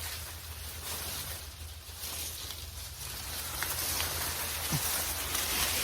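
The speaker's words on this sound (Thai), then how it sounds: "ทั้งลมทั้งฝนนะครับ" Steady hiss of rain with gusting wind on a rural hillside, a broad wash of noise that swells and fades, with faint scattered drips and no talking.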